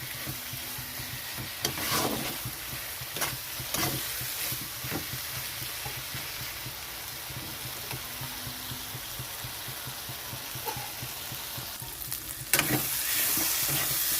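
A spice paste for fish head curry sizzles in oil, with the oil separating, a continuous soft frying crackle broken by scraping stirs and occasional clatters of a spatula against the pan, close and moderate in level.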